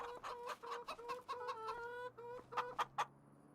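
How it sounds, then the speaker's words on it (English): Chickens clucking in the Farming Simulator 25 farming game, a close, faint run of rhythmic clucks and short calls from several birds, ending in a few sharper squawks, with no talk. "We'll have a quick check on the chickens so we don't have to in the morning"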